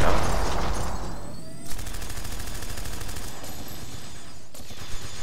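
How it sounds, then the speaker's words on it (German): Rapid automatic gunfire rattles in a continuous burst with a couple of sharper impacts in the strategy game Battle Worlds: Kronos, units shooting at bandits, loud and close with no talk over it. "Mal auf den Banditen geschossen."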